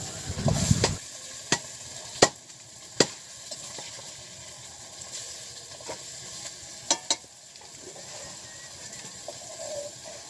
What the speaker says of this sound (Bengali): এই যে হলুদ লবণ মাখানো আছে মাছে, আর মাছ ভাজাও তো হচ্ছে।